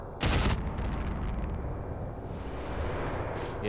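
An enemy blows up in Entropy Zero 2, a loud, sharp blast at the start followed by a long, rumbling roar and debris noise that fades slowly.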